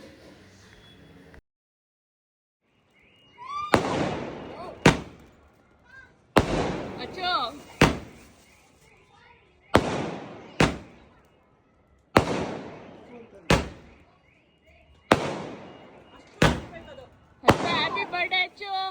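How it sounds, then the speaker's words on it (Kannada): Firecrackers set off by friends at a birthday celebration: a rapid string of loud, sharp bangs in irregular bursts, some doubled, close by, with voices and cheering between the blasts. "ನಮ್ಮ ಫ್ರೆಂಡ್ಸ್ ಜೊತೆ ಪಟಾಕಿ ಹಿಡ್ಕೊಂಡು ಎಂಜಾಯ್ ಮಾಡಿದೆ"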